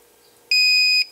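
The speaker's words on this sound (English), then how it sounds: "and it beeps" A homemade temperature sensor alarm kit's buzzer gives a single loud, piercing electronic beep of about half a second, sharp on and off, close up against a faint background hum.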